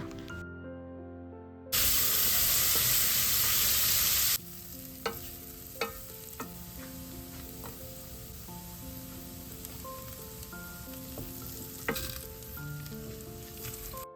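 Chopped vegetables frying with cinnamon, cloves and cardamom, a loud hiss bursting up as they hit the pan, then settling into a quieter sizzle with spaced spoon clacks over background music.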